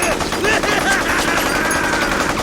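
Loud, continuous gunfire bursts from the video game Xenoblade, a rapid rattling barrage layered with game music and effects, with no pauses across the short stretch.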